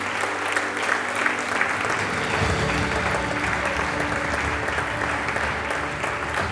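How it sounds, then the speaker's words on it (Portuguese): An audience at the Bolsa Amélia de Mello award ceremony at CCB claps in dense, sustained applause that stays even and full for several seconds. "Primeiro um aplauso."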